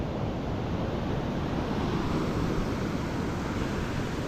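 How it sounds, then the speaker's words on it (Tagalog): Ocean waves crash and surge continuously as a steady, loud roar with wind buffeting the microphone and no speech. "grabe yung alon"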